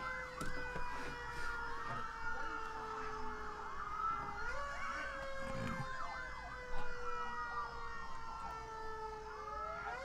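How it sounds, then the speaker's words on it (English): Emergency sirens wail and yelp at a distance, several overlapping tones rising and falling continuously over steady road traffic noise, with no speech heard. "All that for sirens?"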